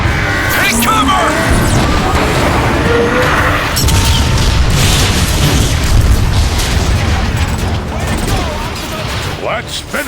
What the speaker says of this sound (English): I'd be curious as to what an artillery strike would do to that Marauder.